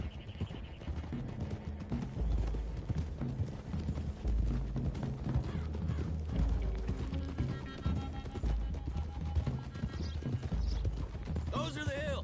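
Horses gallop along a road in the video game Red Dead Redemption 2, a steady clip-clop of hooves with occasional neighing, while someone talks over them and gunfire-like bursts sound near the end.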